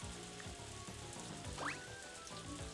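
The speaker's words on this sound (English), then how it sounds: "And it's raining, so there's not even any reason to like, do anything outside." Rain falls in the farming video game Story of Seasons: A Wonderful Life, a steady, soft crackling hiss of drops spread evenly throughout, faint and continuous with a low rhythmic pattern beneath.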